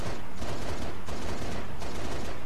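Turret gunfire in Halo Reach, continuous rapid bursts of shots with mechanical clatter, loud and dense with brief dips between volleys.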